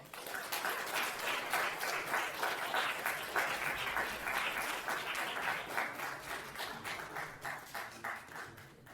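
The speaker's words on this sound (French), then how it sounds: "Je vous demande d'applaudir cette nouvelle classe" An audience at a school magic show in Mons applauds a new magic class, a dense, even patter of many hands lasting several seconds, fairly faint and distant, with no talking.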